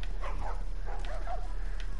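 A dog barks a few times in The Last of Us Part 1, the short yips and woofs coming faint and mid-distance over a steady low game hum.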